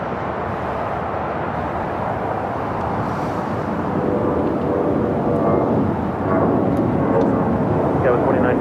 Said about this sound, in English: Next takeoff here on the south side is Viva Aerobus Flight 511 heading to Guadalajara.